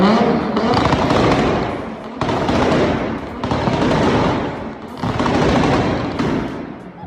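A BMW M3 on two-step launch control fires rapid, very loud exhaust pops and bangs in long crackling bursts, echoing indoors beneath a low ceiling.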